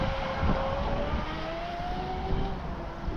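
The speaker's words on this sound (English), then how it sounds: "That's the motor." Electric motor of a Pro Boat Sonicwake V2 36 RC boat running steadily with a rising whine, close and fairly loud against a broad hiss that lasts the whole time.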